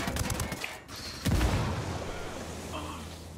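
Grenade blast and gunfire in the tactical shooter Ghost Recon Wildlands: a burst of shots up front, then a heavy explosion boom near the middle, followed by a rumbling tail with more scattered fire, loud and close.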